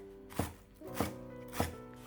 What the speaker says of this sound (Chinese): 再准备几颗小葱，切成葱花。